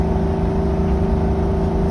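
An RV's engine holds a steady, loud, droning hum at half throttle while climbing a hill, with continuous road and drivetrain noise and no talking.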